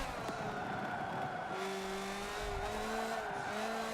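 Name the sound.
racing car drifting with tire squeal in video game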